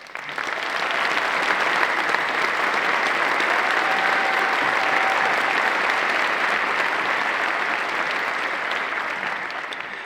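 Audience at a Kansas John Philip Sousa honor band concert applauding the band, a loud, sustained roar of clapping that swells in and holds steady for about ten seconds before easing slightly.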